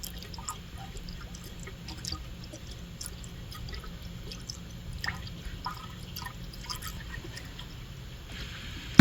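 OEM antifreeze coolant poured into the radiator of a 2003 Acura TL, heard as a quiet, uneven trickle with scattered drips and gurgles close by, ending in a small knock.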